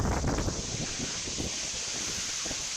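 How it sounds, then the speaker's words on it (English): Strong hurricane wind roars in a dense, continuous rush, buffeting the microphone loudly throughout with no talking. "Yeah, I can hear that wind."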